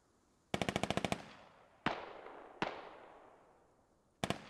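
Gunfire in the tactical shooter game Squad: a sharp burst of rapid automatic shots, then two single loud cracks with long echoing tails, and another burst starting at the end.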